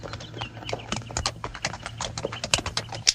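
Horses' hooves clip-clop in a 1953 radio western drama, a quick, close, uneven run of sharp clopping beats, loud and dry, with no talking over them.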